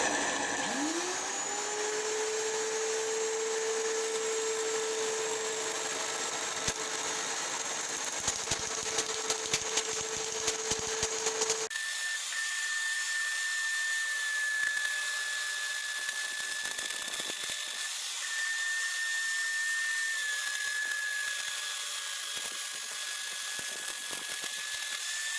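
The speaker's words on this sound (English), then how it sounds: "by using the router and making small passes into it, you could create a nice shoulder tenon as well" A router takes small passes into wood to cut a shoulder tenon on a homemade tenoning setup, giving a steady, close motor whine that shifts to a thinner, higher drone about halfway through, with no talking.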